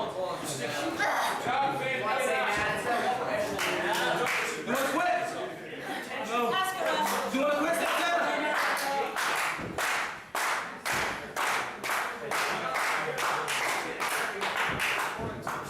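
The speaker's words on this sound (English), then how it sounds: "You can hear the crowd rally behind Santana." Rhythmic clapping and cheering from a wrestling crowd builds in beats behind a commentator talking over the match.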